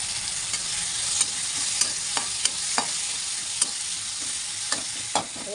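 Tomatoes with turmeric powder sautéing in a pan, a steady bright sizzle with repeated scraping stirs and light utensil taps spaced every second or so throughout, close and alone with no voices.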